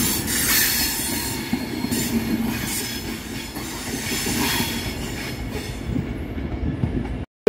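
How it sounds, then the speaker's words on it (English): A 9-coach Avanti West Coast train rolls through Carlisle station, a loud close rush of wheels and rail noise with squealing wheels and rhythmic clatter, fading out and then cutting off abruptly. "This is a 9 coach Avanti service."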